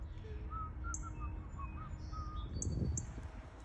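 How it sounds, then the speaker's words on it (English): A cardinal chirps outdoors, giving several faint, sharp high chips among softer whistled bird notes over a low background rumble. "She's chirping."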